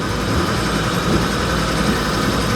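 A Stirling engine runs steadily and speeds up again, giving a loud, even mechanical whir and hum with a faint rhythmic ticking underneath, close by and without speech.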